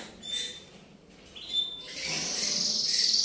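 A Star Blue miniature Yorkshire-type canary gives faint, thin high chirps and trills, a few short calls early, then a longer continuous warble building toward the end against quiet background.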